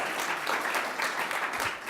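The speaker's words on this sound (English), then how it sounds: "I'd like to practice getting a round of applause." At an evening university business prize competition, the crowd gives a short burst of dense, even applause that fills the room for under two seconds.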